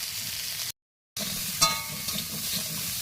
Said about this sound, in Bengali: মাছ ভেজে নিছি, সজনের ডাঁটা আলু ভেজে নেব।